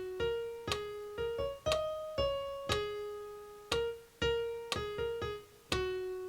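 Single piano notes are struck one at a time in an uneven, shifting rhythm, each ringing briefly before the next, clear and close with no talking.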